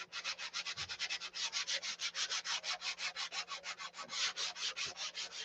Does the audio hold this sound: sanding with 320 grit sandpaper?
yes